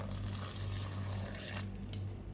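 Water pours steadily into a blender jar holding a mint mojito mixture, a soft continuous splashing stream that thins out toward the end, alone and quiet.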